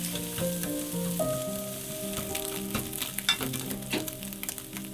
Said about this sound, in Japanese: 軽く焼き色がついたら卵を割り入れる。